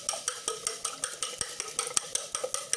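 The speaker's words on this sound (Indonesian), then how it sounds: "kalian harus mengocok telur ini terlebih dahulu. Menggunakan garpu juga bisa" An egg beaten loose with a fork in a bowl, for filling tofu: quick, steady metallic clicks and taps at an even rhythm, close and fairly quiet, with no voices.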